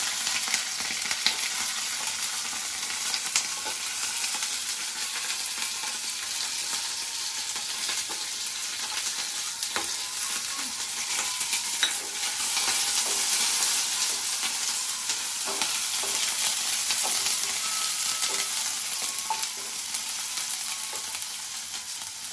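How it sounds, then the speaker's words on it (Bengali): Capsicum and green chillies fry with baby corn in a hot pan, giving a steady, close hiss and crackle of sizzling oil that grows slightly louder midway, with occasional stirring clicks and no talking. "এখন দিব ক্যাপসিকাম আর লঙ্কা, কাঁচা লঙ্কা।"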